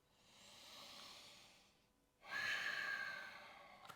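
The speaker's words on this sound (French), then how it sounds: "Gardez le contrôle de la respiration par le nez." During a yoga session, two long breaths pass through the nose, a soft airy inhale followed by a louder, hissing, snort-like one. The breathing is close and clear, and no other sound is heard.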